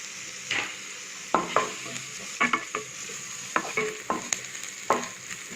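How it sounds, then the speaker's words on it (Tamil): Finely chopped onion fries in oil in a pan for a mutton liver pepper fry, a steady sizzle broken by repeated close scraping clicks of a spoon stirring, with no voices. "இதை நல்லா கோல்டன் ப்ரௌனுக்கு வறுக்கணும்."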